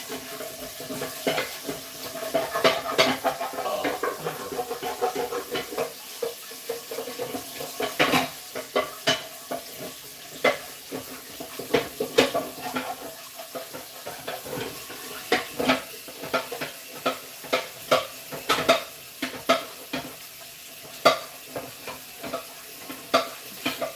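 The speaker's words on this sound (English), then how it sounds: "Gotta wash up this pan." A pan is scrubbed and washed up at a kitchen sink, giving irregular clinks, scrapes and sloshing water that run steadily at moderate volume, with no talking.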